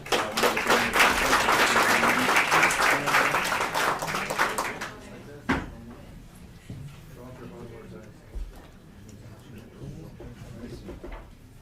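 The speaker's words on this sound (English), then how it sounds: "Let's give him another hand of applause" Audience applause at a county commissioners court meeting, a dense burst of clapping for about five seconds that fades out. Scattered thumps and a voice follow.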